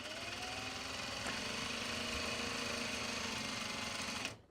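A sewing machine top-stitches fabric bag pockets with a steady, continuous mechanical whirr that stays even throughout. Near the end it stops abruptly. There is no talking.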